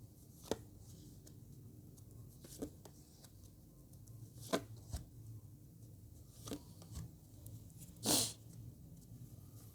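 Tarot cards being given a final shuffle during a reading, heard as soft, close papery riffles and taps spaced a few seconds apart over a quiet room hum, with one sharper burst near the end.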